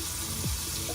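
Water runs steadily from an RV camper sink faucet, a constant close hissing flow with a faint brief gurgle, and no voices.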